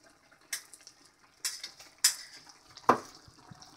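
Four sharp, distinct knife chops as raw chicken and vegetables are cut for a stir fry, spaced roughly a second apart, fairly close and quiet, with no talking.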